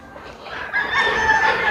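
A fighting rooster, crippled in cockfights, crows once, nearby and fairly loud.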